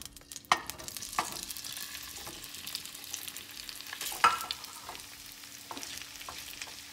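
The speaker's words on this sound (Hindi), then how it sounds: "अब इसके अंदर हम अपने इन आलुओं को फ्राई करेंगे।" Potatoes frying in about four to five tablespoons of hot oil in a pan over medium heat, giving a steady soft sizzle with occasional sharper clinks and stirring scrapes, no voices.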